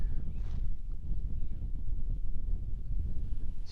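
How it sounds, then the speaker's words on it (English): Strong, chilly north wind buffets the microphone outdoors, a steady low rumble of gusts with no let-up throughout. "Jeez, this wind, where did it come from?"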